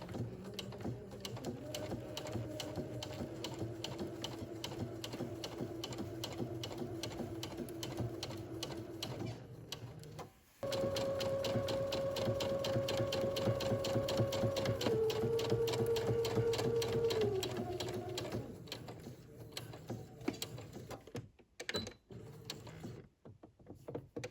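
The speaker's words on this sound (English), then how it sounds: "now we're ready to top stitch around the collar stand" A sewing machine runs steadily, top stitching around the collar stand of a shirt dress, with a brief pause midway and a short back stitch at the end. It is close, even-paced and mechanical, with no talking.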